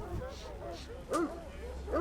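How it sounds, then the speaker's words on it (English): Police search dogs, including a bloodhound, give two short bursts of yelping barks against a muffled background. A voice talks over them. "By now, even the dogs are impatient to find Horning"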